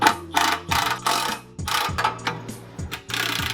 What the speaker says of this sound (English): To remove this, you're going to need a 14mm open-ended wrench on the back, and then you're going to need a 14mm deep socket.